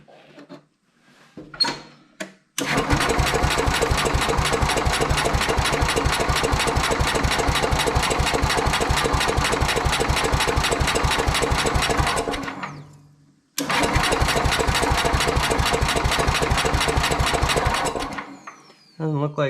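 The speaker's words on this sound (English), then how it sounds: "So I'll put some gas in it and we'll see if it fires up again" Vintage Sears Suburban 12 lawn tractor barn find engine running, a loud steady chugging putter close by that cuts out, restarts after a brief gap, then stops again.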